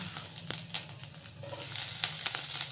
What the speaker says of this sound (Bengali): সর্ষের তেলের মধ্যে এইবার দিয়ে দেবো পরিমাণ মতো গোটা জিরে